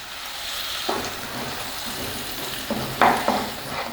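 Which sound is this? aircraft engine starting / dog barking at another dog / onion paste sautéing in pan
onion paste sautéing in pan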